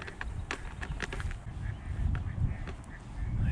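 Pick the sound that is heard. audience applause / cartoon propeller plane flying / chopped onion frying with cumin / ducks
ducks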